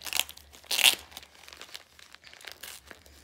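Gift wrapping paper crinkles and crunches in a few sharp bursts as a present is torn open, close and loud, with softer rustling in between.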